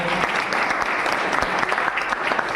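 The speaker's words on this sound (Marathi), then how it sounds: "सो एकदा जोरदार टाळ्या वाजवल्या" Loud, dense applause from an audience at a district-level competition in Nandurbar, sustained clapping throughout without a break.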